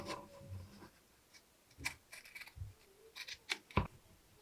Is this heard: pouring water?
no